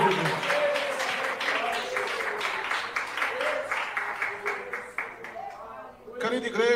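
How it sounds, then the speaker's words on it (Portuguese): Church congregation clapping hands in praise to Jesus during a doctrine service: rhythmic, loud, regular claps in time, mixed with singing or shouting voices, fading briefly near the end before more voices. "Mais forte as palmas para Jesus"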